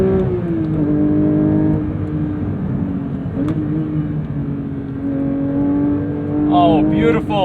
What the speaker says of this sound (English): You can hear more of the exhaust.